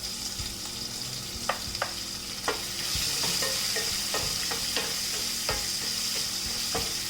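Sliced onion frying in a pan with green chillies, a steady bright sizzle punctuated by repeated sharp spatula taps and scrapes at irregular intervals, close and fairly loud, no talking.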